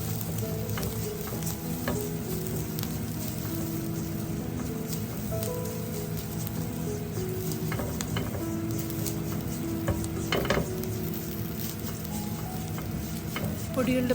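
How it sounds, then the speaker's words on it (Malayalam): Kashmiri chili powder, coriander powder and garam masala stirred and sizzling in a pan for potato roast. There is a steady, close frying hiss with scraping stir strokes throughout and no talking. "1/2 ടേബിൾ സ്പൂൺ മല്ലിപ്പൊടിയും 1/2 ടീസ്പൂൺ ഗരം മസാലയൂടെ ഇട്ട് നന്നായി ഒന്ന് ഇളക്കിയെടുക്കാം"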